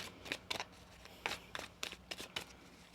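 Tarot cards being shuffled by hand in short, quiet riffling bursts, roughly eight brief crisp flicks spread unevenly across the moment, with no talking.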